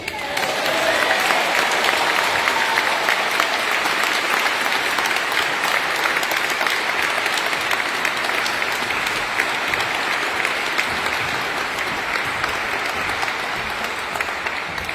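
Sustained applause from a large audience at a religious consecration ceremony, thick continuous clapping that holds steady throughout and fades slightly toward the end.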